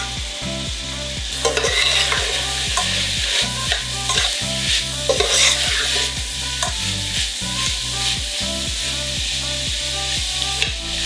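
Vegetables with onion, pepper and bay leaves simmer and bubble in a pot for a chicken gnocchi soup, with a steady close sizzle and repeated rhythmic stirring scrapes throughout, no talk.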